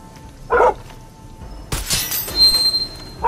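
In the video game Far Cry 6, a dog gives one sharp bark, followed by a louder burst of crashing and shattering noise with a sustained ringing tone.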